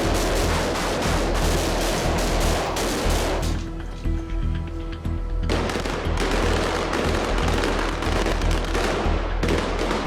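Rapid gunfire erupts in a police assault on a gunman on a balcony, a dense barrage of loud shots crackling almost continuously, pausing briefly midway before resuming with equal intensity.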